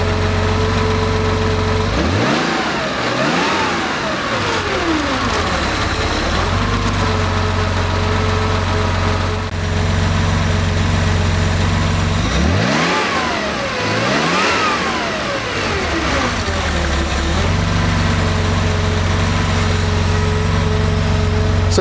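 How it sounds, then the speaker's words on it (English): A Porsche engine with CIS fuel injection revs twice, loud and close, each time sweeping up and then dropping quickly back to a steady idle. "Now when I rev the engine, it's returning to idle a little bit too fast, so I want to slow that down."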